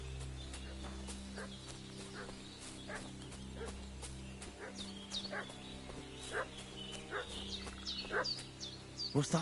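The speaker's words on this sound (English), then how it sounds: "What's that dog making such a fuss about?" Dog barking in the medieval RPG Kingdom Come: Deliverance II, a series of short repeated barks and yips rising louder toward the end over a steady ambient game soundscape with birdsong.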